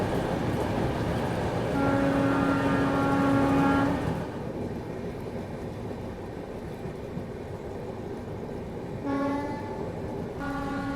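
A Tirupati–Jammu Tawi Humsafar Express rolls along and merges onto the main line with a steady, close rumble, broken by a long horn blast and then shorter horn notes near the end.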